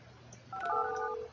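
Telephone dialing tones in the building-management video game Project Highrise: a short burst of overlapping electronic DTMF beeps after a quiet lead-in, clean and isolated with no talk.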